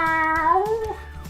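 A person imitates a cat with a single drawn-out meow that bends downward in pitch, clear and close, voice alone.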